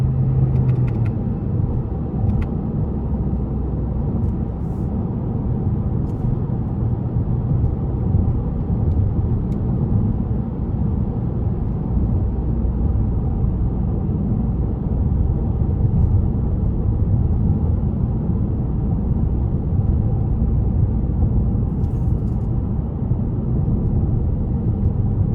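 Interior drone of a 2021 Toyota Corolla SE Apex with a CVT under way, a steady low engine hum and road rumble, constant and close, with no speech.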